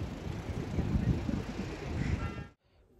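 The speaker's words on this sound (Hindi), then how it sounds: "यहाँ पे इतनी तेज़ हवा चल रही है" Strong wind buffets an outdoor microphone at Badrinath in the Himalayas, a loud continuous rumbling roar that ends abruptly near the close.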